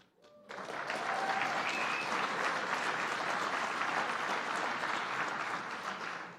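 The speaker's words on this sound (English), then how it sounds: "thank you, Mayor Bowser, for leading the clap." At the US Conference of Mayors winter meeting, a big crowd breaks into loud, sustained applause that rises quickly and holds as a dense roar of clapping for several seconds.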